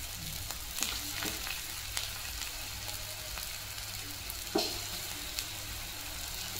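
Cutlets shallow frying in a little oil in a pan give a quiet, constant sizzle, broken by occasional soft clicks and scrapes as pieces are placed and moved, with one louder tap partway through.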